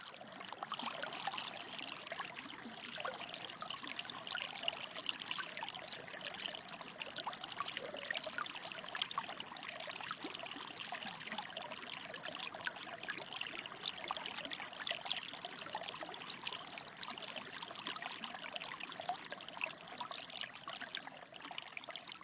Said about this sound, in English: Runoff from the geyser flowed toward the Green River and gently fell down a small waterfall into the river.